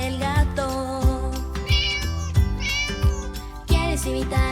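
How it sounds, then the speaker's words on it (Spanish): A cat meows repeatedly in a children's farm animal song, with several clear, tonal mews over musical accompaniment. "Vamos a escuchar cómo hace el gato."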